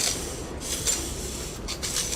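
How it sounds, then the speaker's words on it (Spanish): Very fine sandpaper rubs across an alternator's slip rings in a soft, continuous rasping scrape with a few brief louder strokes, close up and with no talking. "lo único que voy a hacer es limpiarlo con una lija extremadamente fina"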